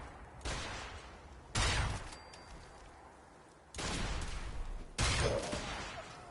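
Fancy Institute rifles firing in Fallout 4, a few separate bursts of sharp energy-weapon shots spaced a second or two apart, fairly faint and distant with quiet gaps between volleys.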